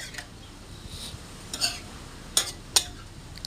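Utensil scraping and clinking in a pan while stirring adobong tahong, a mussel adobo mixture; a few distinct sharp clinks stand out over a quiet, low background hiss, close by and with no talking.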